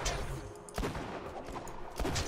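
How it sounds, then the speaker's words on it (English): Sniper rifle fire in Borderlands 2, a sharp shot landing near the start and another near the end, set over a steady bed of game gunfire and ambient noise. "I think this is my sniper rifle."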